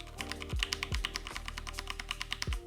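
Typing on a Ducky One 2 TKL Tuxedo mechanical keyboard: a steady, fairly quiet run of rapid key clacks close by, with a few deeper thumps among them and no voices.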